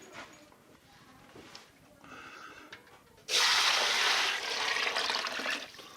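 Sea buckthorn tea poured through a simple strainer into a container, a sudden loud, steady rush of liquid starting midway and continuing to the end after quieter handling sounds.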